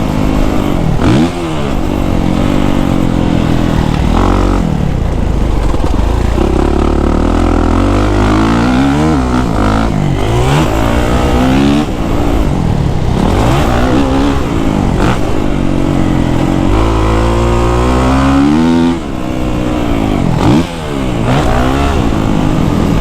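A 2023 Kawasaki KX450SR 450 dirt bike roars loud and close while being ridden, engine revving up and down in repeated surges and drops as the rider shifts and rolls the throttle, with no talk over it.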